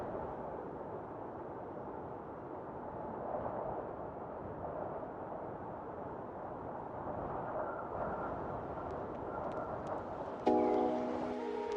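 Steady rumble of a passenger train in motion between Delhi and Chandigarh, a constant dense roar of wheels and carriage noise heard from inside, with a faint brief tone near the end.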